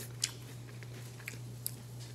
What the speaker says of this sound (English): That crunch.